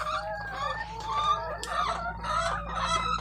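Several chickens cluck and squawk close by while eating at morning feeding, in a busy, overlapping chatter with a steady low hum behind them.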